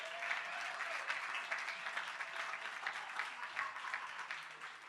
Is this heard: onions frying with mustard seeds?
no